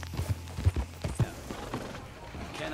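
A horse's hooves clip-clop in Red Dead, a few irregular thumps up close over a low rumble of ambient game sound.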